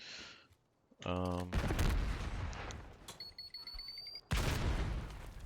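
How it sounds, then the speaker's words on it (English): SMG gunfire in a collegiate esports match, rapid bursts of crackling shots that start abruptly, fade and return loud, mixed with game effects and a brief tone. "running with the SMG"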